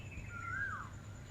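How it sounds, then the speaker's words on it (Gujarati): At dawn in a Gujarat village, one faint bird call sweeps briefly upward and then down over a steady background of insects and low ambient hum. "મસ્ત અવાજ આવે પક્ષીઓનો."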